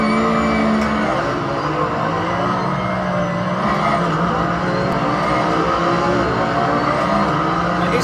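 Porsche GT3 race car engine in Assetto Corsa at Imola, a loud, steady engine roar running without a break with a faint tire-squeal tone, with no talk over it.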